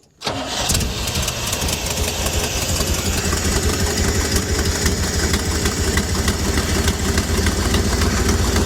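A Chevy square body crew cab truck engine cranks briefly, then catches and settles into a loud, steady running roar that fills the rest of the clip, close up and alone.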